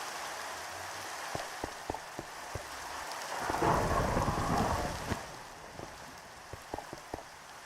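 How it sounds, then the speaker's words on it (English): Steady rain patters in a Minecraft world while a rolling thunder rumble swells midway and fades, with scattered droplet ticks around it and no voices. "It's fucking raining."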